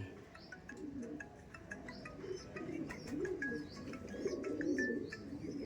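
Madrasi pigeons coo softly and continuously in a loft, low murmuring calls overlapping with faint chirps and small rustles, heard at low volume without talk.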